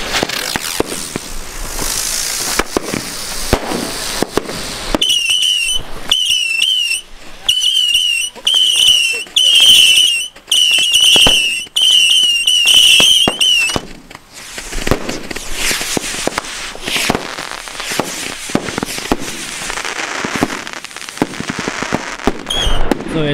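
A 100-shot Cybershot firework battery fires rapid shots, each with a whistling screech and sharp crack in a quick rhythm, loud and close, followed by crackling pops and some voices.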